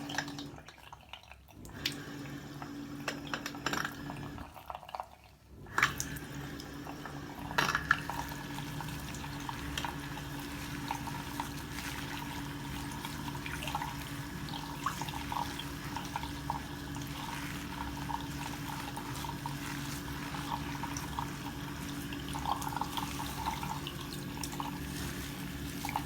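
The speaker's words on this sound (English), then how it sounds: "So the first thing I'm going to do is just wet your hair." Tap water runs steadily over hair during a shampoo hair wash, with a gentle continuous splash and drip that starts after a brief quiet gap and keeps going at close range with no talk.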